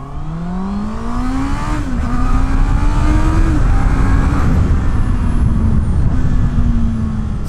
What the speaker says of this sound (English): we can kind of do a quick little acceleration test if you guys want